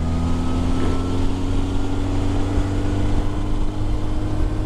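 A 1987 Honda Goldwing 1200 touring motorcycle on a ride, its engine a steady, loud drone with a low hum that holds evenly throughout, blended with wind and road noise and no talking.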